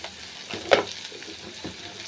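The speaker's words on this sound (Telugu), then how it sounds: "ధనియాల పొడి, గరం మసాలా పొడి వేసి మళ్ళీ దీన్ని ఒకసారి మిక్స్ చేసుకుంటున్నాను" Prawn fry being stirred in a pan after coriander powder and garam masala go in, with soft sizzling and a few scraping stirs, one sharper clink near the start, quiet and close.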